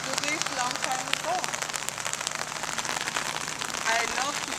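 Rain falls steadily as a dense, even hiss through an outdoor dance in the rain, with people talking over it throughout.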